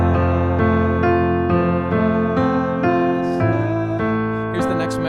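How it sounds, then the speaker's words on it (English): Solo piano plays the vocal melody over sustained chords, a steady run of notes at moderate volume, without talk. "You can hear the piano's actually playing what the vocal's playing"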